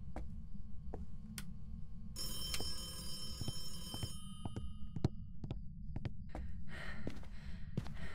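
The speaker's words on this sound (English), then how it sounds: "Phone is ringing" A phone rings in the ghost-hunting game Phasmophobia, a bright electronic trill that starts partway through amid scattered ticks and clicks over a low rumbling drone, with no voices.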